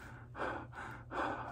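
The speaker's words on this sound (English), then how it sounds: "And you can breathe through it." Two slow breaths drawn in and pushed out through a MERV 16 filter face mask, airy and muffled, close and fairly quiet with no talking.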